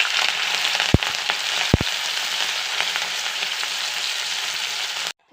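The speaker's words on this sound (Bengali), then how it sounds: "তেলটা গরম হয়ে গেছে, শুকো মাছগুলো দিয়ে ভেজে নেবো ভালো করে।" Dried fish frying in hot oil in a wok, a steady dense sizzle running loud and unbroken throughout, with two brief sharp spatters or pops early on before it cuts off abruptly at the end.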